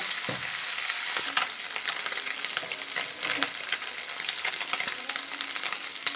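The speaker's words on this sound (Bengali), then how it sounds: "মাছটি ভালোভাবে এক পাশ ভালো করে ভেজে ভাজা হয়ে গেলে পরে আমরা উল্টিয়ে দেব" Small fish sizzle and crackle steadily in hot oil in a pan, with occasional stirring clatter and no talking.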